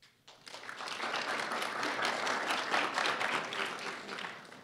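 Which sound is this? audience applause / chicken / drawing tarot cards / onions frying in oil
audience applause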